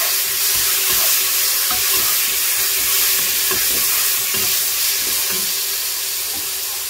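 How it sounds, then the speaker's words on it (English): Ginger and garlic paste sizzles steadily in hot oil for pilau, with a constant close frying hiss and soft scraping taps as it is stirred. "My ginger and garlic paste at this point and keep stirring."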